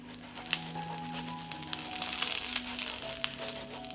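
Steady frying sizzle from a greased pan as a tortilla cooks, with light crackling that builds slightly, plus faint scraping and a low hum.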